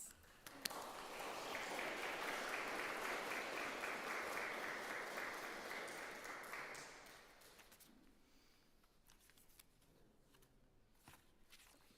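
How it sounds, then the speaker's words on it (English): A church congregation bursts into sustained applause, steady and full for about seven seconds before fading to scattered claps and quiet room noise. "shall we give them a round of applause?"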